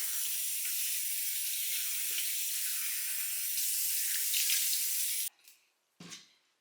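Tap water runs in a steady, close hiss into a sink during a face rinse in a skincare routine, then cuts off abruptly, leaving a couple of brief splashes and drips.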